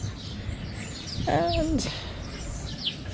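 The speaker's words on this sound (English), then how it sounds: "I've been blessed today with many, many birds to sit here and watch" A single bird gives a short warbling call in a garden with geraniums, heard once and fairly close over steady outdoor background noise, with a voice briefly speaking.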